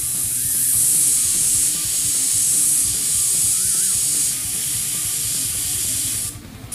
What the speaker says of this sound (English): that's the area where we're going to be spraying now